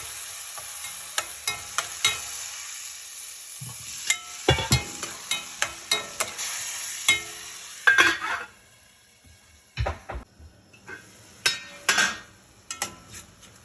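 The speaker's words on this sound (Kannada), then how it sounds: "ಈಗ ಚೆನ್ನಾಗಿ ಕುದೀತಾ ಇದೆ ನೋಡಿ" Pan of tomato masala for rajma bubbling on the stove, with repeated sharp spoon-on-pan clinks and stirring scrapes over a soft steady sizzle, close and alone with no talk.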